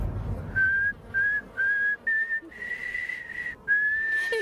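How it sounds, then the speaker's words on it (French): A melodic tune whistled through the nose while breathing, heard as a sequence of clear sustained notes in short phrases with brief pauses between them, close and alone. "Quand il respire, il arrive à siffler au clair de la lune avec son nez."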